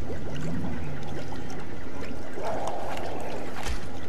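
A player character in the video game How To Survive falls into water and thrashes around, making sloshing, splashing and trickling sounds. A sharper splash comes near the end, and no one speaks.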